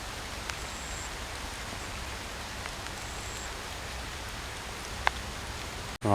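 Steady rain falls in a Singapore nature reserve, an even hiss of drops on leaves and ground, with a brief sharp knock just before the end and no talking.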